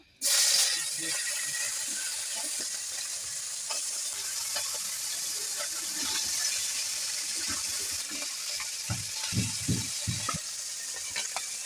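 Tengra fish fry in hot oil in a kadai, with a loud burst of sizzle as they hit the oil that settles into a steady close hiss, with soft clinks of stirring later and no speech.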